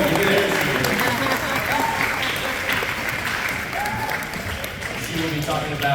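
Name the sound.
audience applause for cheer coach's entrance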